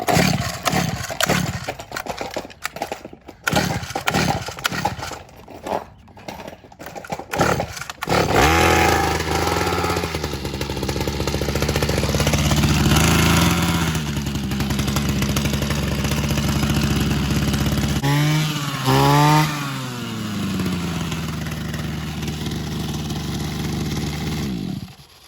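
A RedMax G20LS commercial-grade weedeater, run without an air filter after a carburetor replacement with new fuel lines, gets several choppy pull-start attempts, then catches and runs with a loud steady two-stroke buzz, revving briefly up and down twice.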